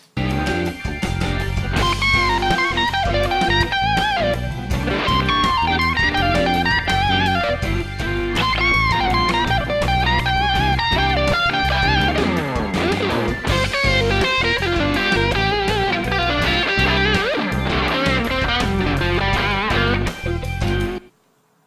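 An electric guitar plays a blues lick with bends and quick runs, strummed chords and single notes, loud and continuous for about twenty seconds, ending abruptly.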